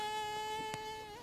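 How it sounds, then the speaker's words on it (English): Steady, close mosquito-like whine on Guam, a thin sustained buzz holding a constant pitch for the whole moment with a brief soft tick partway through. "Ugh, and mosquitoes."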